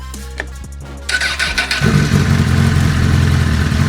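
A motorcycle engine cranking and then catching, starting with a stuttering starter whir and clicks, then a loud steady idle rumble taking over, close by.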